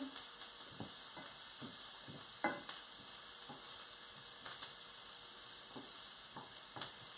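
Sausage and caramelizing onions frying in a non-stick pan, heard as a faint, even sizzle with scattered soft turning and scraping sounds.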